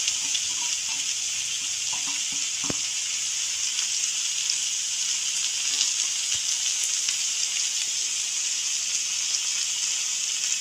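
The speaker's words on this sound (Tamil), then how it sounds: "வெங்காயம் நல்லா வதங்கட்டும். அது கூடவே மூணு பச்சை மிளகாய் போடுறேன்." Onions and green chillies fry in a pan with a steady, close sizzle that holds evenly throughout, broken by a few faint clicks and taps, with no talking.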